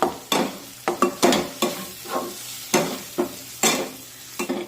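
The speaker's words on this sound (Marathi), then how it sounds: "हे सर्व मसाले तेलामध्ये व्यवस्थित परतून घ्यायचे" Spices stirred through hot oil in a pan for a radish-pod vegetable dish, with repeated scraping strokes of a spoon over a steady low sizzle, close and fairly loud, no voices.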